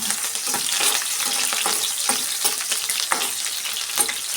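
Onions and curry leaves fry in oil in a pan for a home-style egg sambar, a steady bright sizzle broken by the scrape and clatter of stirring, close and alone with no talk.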